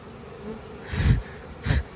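Honeybees buzz around a hive as it is smoked. Two loud, close buzzing swells pass, a longer one followed by a shorter one, over a soft hum.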